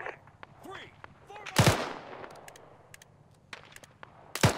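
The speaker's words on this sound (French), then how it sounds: "On tire dessus aussi" Gunfire in the military shooter game Arma 3, with sharp, sparse rifle shots cracking at varying distances, two loud close bursts standing out, and faint radio-style voices in between.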